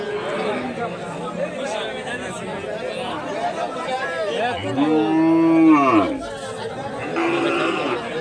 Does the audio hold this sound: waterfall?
no